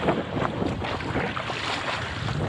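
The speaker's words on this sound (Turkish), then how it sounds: "Rüzgar üstü gidiyorum. Aynı anda da dalga bakın. Her seferinde bir dalga çarpıyor." Waves slap against a stand-up paddleboard heading upwind, with repeated choppy splashes over steady wind buffeting the microphone, close and continuous.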